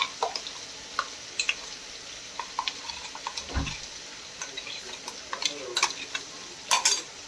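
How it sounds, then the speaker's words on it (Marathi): Thick ground masala paste stirred into sizzling fried onion and tomato in a pan for prawn biryani, with soft scraping and frying crackle and a few sharper utensil clicks against the pan, close and fairly quiet. "आता त्यात आपण हे जे वाटण केलेलं आहे ते घालून घेणार आहोत"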